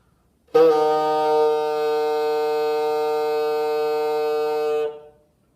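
A single sustained bassoon note, an F, reedy and steady, held for about four seconds before stopping cleanly in a quiet room.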